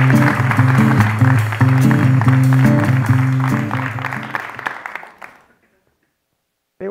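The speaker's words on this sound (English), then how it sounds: "please give a round of applause to Theda Skocpol and René Flores" Audience applause at a live taping of the No Jargon podcast's 100th episode: a dense, loud crowd clapping mixed with steady tonal sound, holding for about four seconds before fading away, then a brief new sound at the very end.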